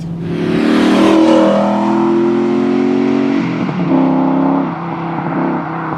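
A TVR Chimaera 500 V8 accelerates hard close by, its loud engine note rising in pitch, easing briefly as the revs drop, then pulling strongly again.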